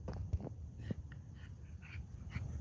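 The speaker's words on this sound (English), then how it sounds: "this is my dog, Gray Goose." Grey Goose, a dog out on an off-leash morning walk, pants quietly close by with soft rhythmic breaths and a few faint whimpers, no voices over it.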